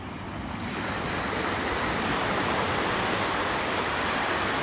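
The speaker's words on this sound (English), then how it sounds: "The sound of sea." Sea waves breaking on a Goa shore, a broad continuous wash of surf that swells up within the first half second and then holds steady and loud, with no voices.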